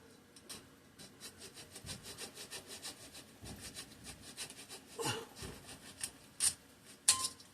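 Hand filing on a part of a 3hp Briggs and Stratton engine, a steady run of close, rhythmic rasping strokes with a few sharper scrapes near the end.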